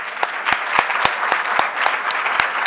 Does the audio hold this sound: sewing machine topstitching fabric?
no